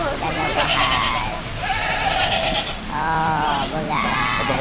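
A goat with a broken leg bleats in repeated long, wavering cries, loud and close, with people talking nearby.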